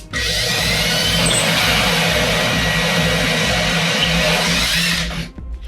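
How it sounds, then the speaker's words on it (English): A power drill whines loudly and steadily for about five seconds, boring continuously into a wall before spinning down and stopping. "I'm gonna drill my hole."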